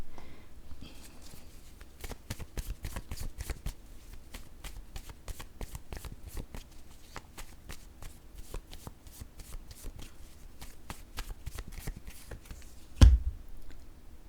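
A deck of playing cards is shuffled over and over, a run of crisp riffling bursts in a quick, uneven rhythm close to the listener, fairly quiet, with one sharp knock near the end and no speech.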